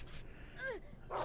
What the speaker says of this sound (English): All you're doing is barking at a clock.